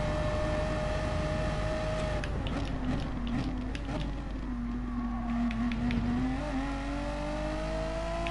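A race car lapping the circuit in Gran Turismo Sport on medium tyres, a steady, loud engine drone that rises and falls in pitch through gear changes and corners, with faint clicks over it and no talking.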